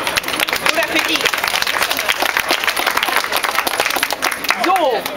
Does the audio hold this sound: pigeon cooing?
no